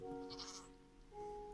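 A goat bleats in Minecraft's 1.17 update, a short nasal call with a steady buzzy tone that dips, then returns slightly louder near the end, fairly close and alone.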